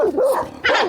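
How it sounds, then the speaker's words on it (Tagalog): A dog gives two quick, high-pitched yelping barks close by, one right after the other within a second. "May aso eh."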